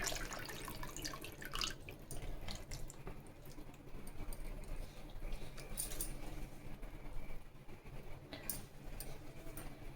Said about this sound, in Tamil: இன்னும் தேவையான அளவுக்கு தண்ணி இது ஊற்றிக்கலாம்